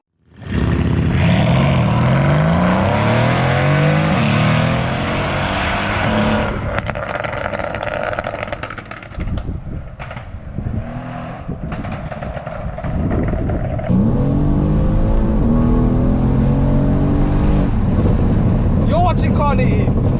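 A Stage 2 tuned 2016 Mercedes-AMG C63 W205 engine rises in a loud, sustained rev with harmonics climbing, then drops back, idles roughly and rises again, close up, with a voice briefly heard over it.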